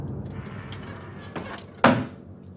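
A dull thump added as the sound of an oven door opening in the horror film Child's Play, one sharp, fairly loud hit near the end over a murky, busy background.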